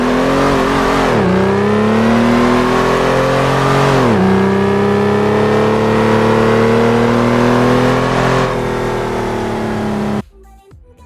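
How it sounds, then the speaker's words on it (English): A V12 car engine revs repeatedly in three long rising pulls, each dropping back before climbing again, loud and close, then cuts off abruptly near the end. "have the amazing sound of just the most brilliant V12 in the entire world"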